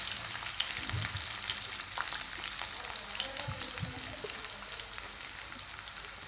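Finely chopped onions sautéing in oil in a pan for a fenugreek kulambu, giving a soft, even crackling sizzle with a few faint stirring knocks, fairly quiet and with no one speaking.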